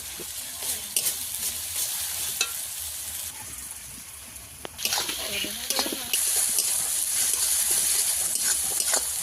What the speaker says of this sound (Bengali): পেঁয়াজ কুচি দিয়ে দেবো, ভেজে নেব